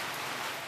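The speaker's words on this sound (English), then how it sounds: "despite the rain outside" Steady rain falls outside during a June rice delivery to families, a continuous even hiss with no distinct drops or voices.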